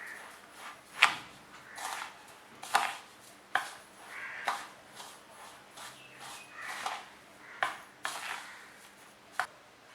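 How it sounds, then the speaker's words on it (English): Rava biscuit dough with cashews and cardamom powder is stirred and mixed by hand in a bowl, giving repeated soft scraping strokes punctuated by sharp clicks and taps of the utensil against the bowl, heard alone without talk. "So I'm going to mix everything together."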